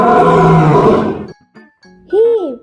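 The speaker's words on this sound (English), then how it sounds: "Whoa, a lion." A lion gives a loud, close roar that fades out, followed after short gaps by other brief animal calls, including a bright rising and falling cry near the end.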